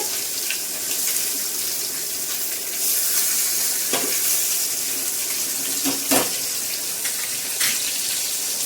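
Fish frying in hot oil in a home kitchen, a steady bright sizzle running throughout with a few sharper pops and crackles as pieces are turned, no talking.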